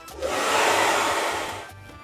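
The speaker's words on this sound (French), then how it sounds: "je vais utiliser le sèche-cheveux en position froide" A handheld hair dryer on its cold setting blows across a face, a close, steady whoosh that rises quickly, holds for about a second and a half, then trails off.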